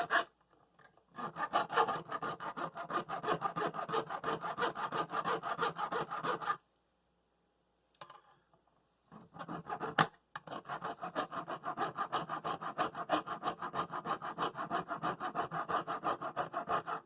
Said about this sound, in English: Maybe I could file the gunk off and make them pointier.